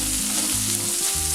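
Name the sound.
chili powder and curry leaves frying in oil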